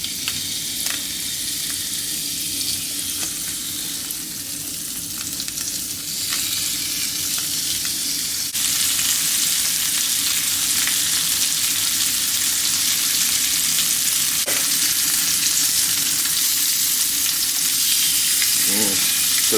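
Lamb chops sizzle and fry steadily in butter and olive oil in a hot pan, a loud continuous crackle throughout with no talking.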